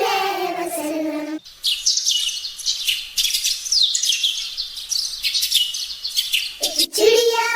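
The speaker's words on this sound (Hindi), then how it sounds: "एक चिड़िया बोली चू चू चू चू" In a children's nursery rhyme song, a bird chirps in quick, bright, repeated bursts for several seconds. Singing is heard before and after the chirping.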